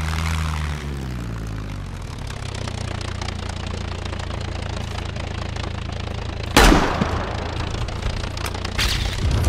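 A propeller airplane in the survival game SCUM drones steadily nearby, its engine hum constant across the scene, with a sharp burst of gunfire cutting in briefly and another short crack near the end.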